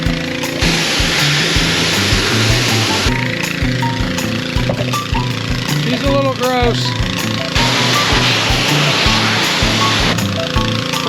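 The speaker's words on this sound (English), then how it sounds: "We're going to spray her down like this," A hose sprays water through the gutted interior of a 1969 Jeep Wagoneer that sat unused for 42 years and was fouled with animal droppings. The hissing rush comes in long bursts that stop and restart, with a person talking nearby.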